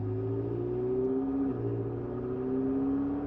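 The engine of a McLaren 720S Spider idles and revs lightly on a chilly day, a steady close low rumble with gently shifting pitch and no talk.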